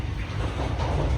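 Inside the dining car of the Gajayana Priority train running between Cirebon and Blitar, a steady low rumble of rolling wheels and rail noise fills the carriage, continuous and close, with no voices.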